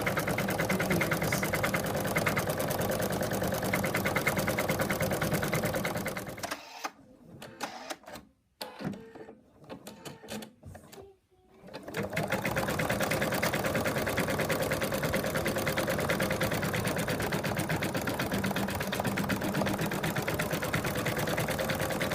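An embroidery machine stitches the outlines of a toy cat's arms, legs, tail and ears, its rapid mechanical chatter running steadily, then briefly stopping and stuttering in the middle before resuming at full pace.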